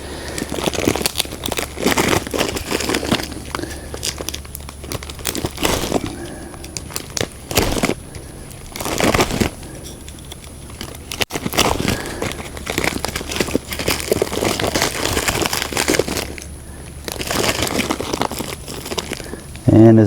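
A plastic bag holding worms and composted peat-moss bedding is opened with repeated crinkling, rustling and tearing bursts up close, interspersed with short quieter pauses.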